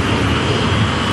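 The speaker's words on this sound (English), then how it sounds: "The right-hand engine runs out of fuel and cuts out." An Airbus jet airliner's engine runs in flight with a dense, loud, continuous roar and hiss that holds steady throughout, with no voices over it.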